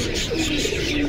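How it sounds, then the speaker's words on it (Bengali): A black Lahori pigeon coos at a pigeon market in Jinjira bazaar, a soft, low, brief coo close by over busy market background noise. "এখানে একটা সিঙ্গেল কবুতর"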